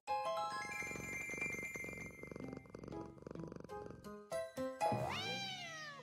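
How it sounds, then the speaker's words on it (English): Cat sounds in the video game Travis Strikes Again: purring and meowing over chiming game music, ending in a loud, drawn-out rising meow. "Aww, what a cat."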